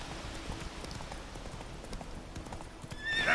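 Roach, the horse in The Witcher video game, trots with rapid, even hoof clip-clops at close range, ending in a loud whinny in the final moments.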